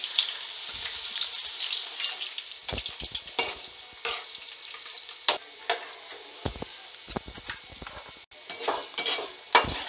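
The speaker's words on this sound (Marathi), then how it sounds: "हे जे सोयाबीन आहेत ते छान आता शॅलो फ्राय झालेले आहेत" Soya chunks shallow frying in oil in a pan over low heat, a steady close sizzle with occasional stirring scrapes and utensil clicks, no talking.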